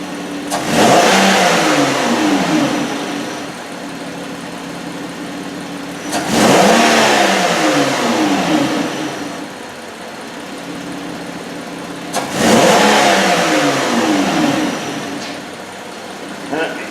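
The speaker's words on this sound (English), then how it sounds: "We'll give her a couple throttle snaps here." A Hyundai Tucson with a drivability fault revs up sharply three times under throttle snaps, each burst rising then falling back toward idle, loud and close.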